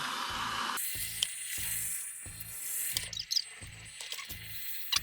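A Roborock Q7 Max robot vacuum whirs at boosted suction, giving a bright, airy roar with a regular low pulsing beat and a few scattered clicks and rattles from debris.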